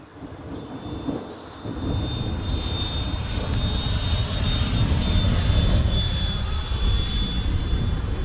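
A Freewing T-33 Shooting Star RC model jet flies on its maiden flight, giving a steady loud ducted-fan whine and rushing roar that builds slightly as it passes.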